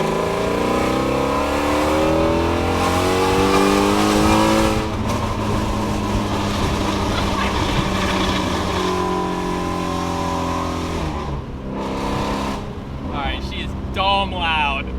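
A Ford Mustang GT350 with a Shifteck cat delete, its exhaust droning loud and close at idle, pitch swelling and falling with revs, then cutting out near the end; a voice talks over it.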